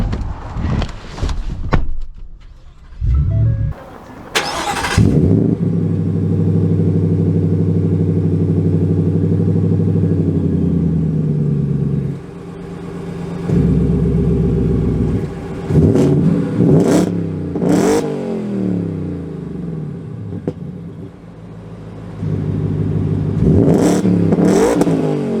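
A 2023 Ram TRX pickup with a 6.2 V8 accelerates hard from inside the cab, its deep engine note climbing and surging through several rising pulls with brief lifts between them, loud and close, with no talking.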